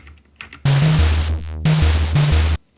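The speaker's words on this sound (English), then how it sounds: "probably all you hear right now is just white noise like that" Broadband white-noise wash layered into an electronic music track, swelling in abruptly over a pulsing low synth bassline with a falling sweep, cutting out and returning before stopping.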